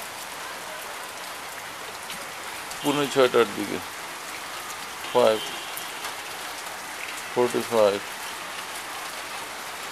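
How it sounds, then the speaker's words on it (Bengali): Gentle rain falls in a steady, soft, even patter while a person speaks briefly three times over it. "রিমঝিম বৃষ্টি।"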